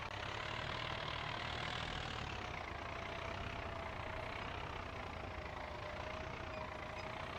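A vintage Ford tractor idles steadily in Farming Simulator 25, a continuous low engine drone with a faint steady whine, alone and unchanging throughout.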